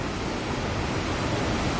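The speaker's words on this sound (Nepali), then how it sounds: "पछाडि झर्ना हेर्नुहोस् ल।" Nearby, the Birekhola waterfall churns out a constant broadband rush, loud and even throughout, heard alone without any talking.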